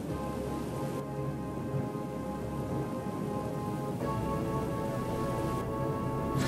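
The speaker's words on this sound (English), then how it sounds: "the rain had quietly begun to fall" Steady rain falls over hills in Norway at night, a dense continuous hiss at even loudness throughout, with a faint low rumble underneath and no voices.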